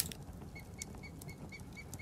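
Bird wings flapping in the Rising World video game, a steady fluttering texture with faint repeated chirp-like ticks, continuous and moderately quiet for a couple of seconds.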